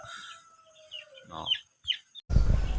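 Forty-five-day-old chickens cluck and call in short, high bursts close by, a few separate squawks over about two seconds before louder rumbling noise takes over.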